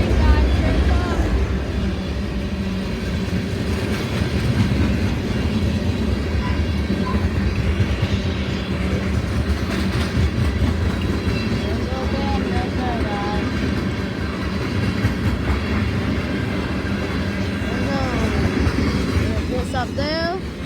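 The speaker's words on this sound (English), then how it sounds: "Here it comes, train, guys. Here it comes." CSX freight train Q326 passing through a crossing on a snowy day, a loud steady rumble of cars rolling by with faint clatter throughout, with people talking over it.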